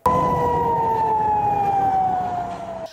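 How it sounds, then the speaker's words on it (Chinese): An air raid siren wailing over a Tel Aviv street in the evening, a loud sustained tone that slowly drifts lower in pitch, then ends abruptly. "九号傍晚，以色列台拉维夫街上空袭警报响不停。"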